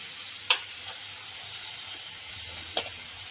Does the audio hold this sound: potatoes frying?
yes